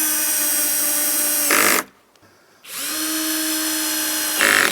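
A power drill drives the last screw into a shed door in a steady, loud whine. It stops briefly for under a second, then runs again at a constant pitch, with a short rise near the end.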